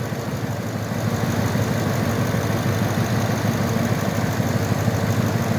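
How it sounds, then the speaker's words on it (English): A 2012 Ford F-350 pickup truck's engine idles steadily, a loud, close, continuous low rumble with an even throb and no talking. "Okay, shot of the motor running."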